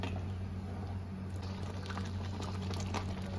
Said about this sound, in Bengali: এবার 1 মিনিট ফুটিয়ে নেব।